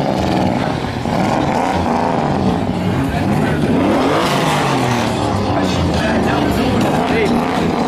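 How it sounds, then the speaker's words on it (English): Race cars drifting at a GridLife track event, a loud, continuous wash of engine roar and tire noise with revving surges, heard from trackside with voices mixed in. "About to go watch Hella Drifting."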